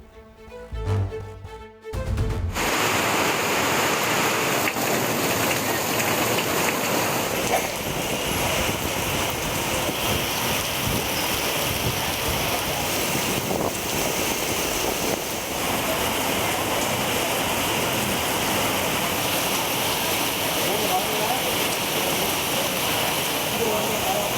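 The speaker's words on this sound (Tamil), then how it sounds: "தமிழகத்தின் பல்வேறு பகுதிகளிலும் பரவலாக கனமழை பெய்தது" Heavy rain pours across parts of Tamil Nadu as a dense, steady roaring hiss that holds unbroken and fairly loud for most of the stretch, after a brief choppy start.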